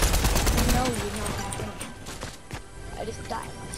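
Scattered gunshots in a Fortnite match ring out at moderate distance, with a few sharp cracks over a busy bed of game noise.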